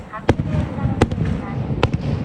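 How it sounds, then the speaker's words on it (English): Daytime fireworks bursting near Mt. Fuji in Japan, heard as several sharp pops spread across the moment, some single and some in quick pairs, over a rumbling outdoor background. "There's the fireworks."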